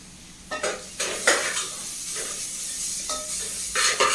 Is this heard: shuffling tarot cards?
no